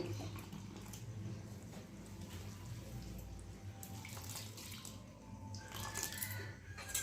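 Water trickles faintly into batter for pumpkin-flower fritters while a hand squishes and mixes it, quiet and close, with soft wet splashes toward the end.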